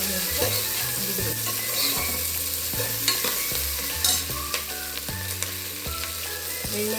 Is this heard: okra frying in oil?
yes